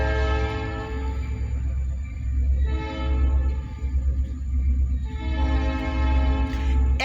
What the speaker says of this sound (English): It's like another petroleum local train again,